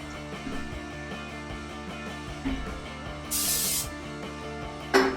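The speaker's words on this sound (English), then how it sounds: "I'm gonna spray it." Cleaning spray hits a Teflon frying pan in two short, close hisses: a longer burst, then a brief final puff, over a faint steady hum and light kitchen clatter.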